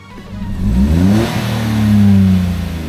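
A small 2023 Fiat 500 car engine revs up close, climbing in pitch to a sustained, throaty high-rpm whine before easing off slightly.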